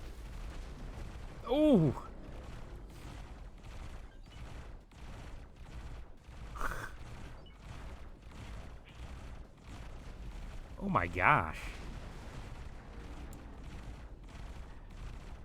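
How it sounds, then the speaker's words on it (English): Big explosions in the space game X4: Foundations burst out twice, a loud boom near the start and another near the end, over a steady low game hum with a voice exclaiming in between. "They do some big explosions."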